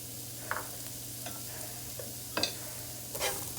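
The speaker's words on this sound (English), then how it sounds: "So I'm gonna stir it" A spatula stirs sautéing spinach with turmeric and salt in a pan, a few scattered scrapes and taps over a quiet, steady sizzle, close and fairly soft.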